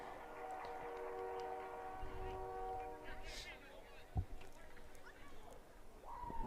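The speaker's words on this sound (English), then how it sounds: "Hear the train off in the distance." A distant train passes near a varsity baseball game in Dansville, its horn sounding as steady drawn-out tones during the first few seconds, faint under crowd and outdoor background noise, with a voice briefly speaking.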